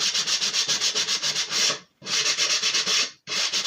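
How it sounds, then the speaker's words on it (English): Sanding block rubbed back and forth along the edge of paper on a junk journal writing board, a rapid, steady rhythmic scratching close by, pausing briefly twice before resuming. "And then all I do is my sanding block,"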